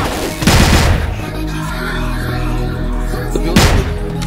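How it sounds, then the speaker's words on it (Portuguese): In a shooter video game, two loud bursts of gunfire ring out about three seconds apart over a continuous background of game noise and hum. "Deu um tiro em cima do bom."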